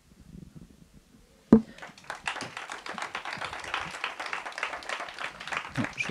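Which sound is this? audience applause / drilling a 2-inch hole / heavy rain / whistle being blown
audience applause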